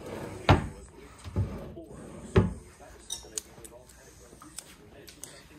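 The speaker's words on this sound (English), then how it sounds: "And here's some drawers." Hotel room drawers at a Drury Inn & Suites in Tempe, Arizona, being pulled open and pushed shut: several sharp wooden knocks and slides, followed by softer clicks and rattles.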